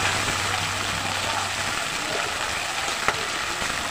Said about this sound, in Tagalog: Ayan, nagigisa lang natin.